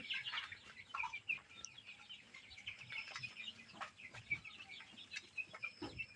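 Tiger chickens cluck and chatter on a farm, a faint flock of overlapping hen calls with brief sharp clucks scattered throughout, heard from a moderate distance.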